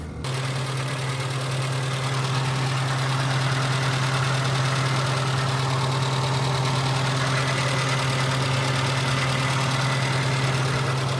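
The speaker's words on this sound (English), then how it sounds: "it just sounds like an engine to me." The engine of a 36-year-old Nissan BE-1 idles steadily nearby, a constant low rumbling hum with a faint rattle and no change in pace.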